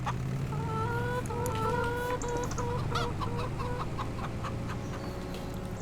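Chickens cluck steadily inside an enclosure in the Farming Simulator 25 farming game, a busy flock of overlapping calls repeating close by over a constant low farm hum, with no talk.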